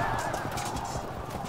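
Cavalry horses charge at an enemy flank in the strategy game Field of Glory II, with a steady, close wash of neighing and whinnying over continuous pounding hoofbeats and no talk.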